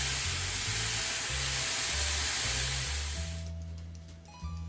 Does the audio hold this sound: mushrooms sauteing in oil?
yes